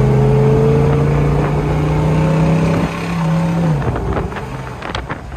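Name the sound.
1966 Chevrolet Chevelle convertible engine while shifting gears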